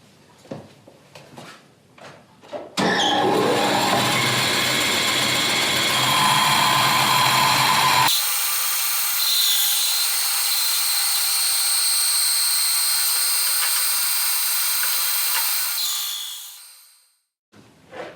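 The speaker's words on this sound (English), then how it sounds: "I'm just going to bandsaw this" A bandsaw rips through a wooden piece for a round table: a loud, sustained whine starting after a few seconds of light handling noise, shifting tone midway as the cut continues, then winding down near the end.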